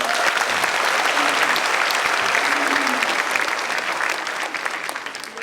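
Dense, sustained applause from a large crowd, loud and even throughout before tapering slightly at the end.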